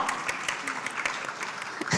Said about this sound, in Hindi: जोरदार तालियां, कम ऑन।